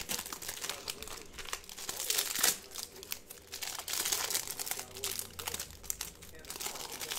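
Packaging torn and crinkled open on a Panini Mosaic basketball card box, 2019-20 NBA hanger, giving close, busy crackling and crumpling bursts with a sharp tear near the middle, steady throughout.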